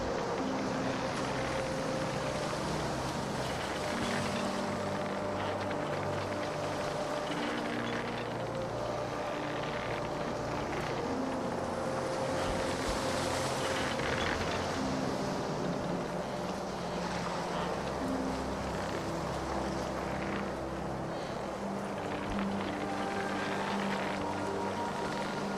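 A sailing ship at sea at night in the video game Caribbean Legend: a continuous low wash of wind and water rushing against the hull, with soft creaks and faint tonal hums layered over a steady, unbroken ambience.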